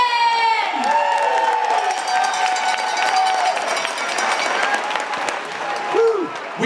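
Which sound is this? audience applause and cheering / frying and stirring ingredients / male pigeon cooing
audience applause and cheering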